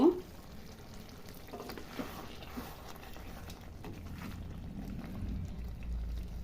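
Chicken sautéed in a pan with chopped coriander leaves, stirred with a soft scraping under a low, steady sizzle that gradually thickens toward the end.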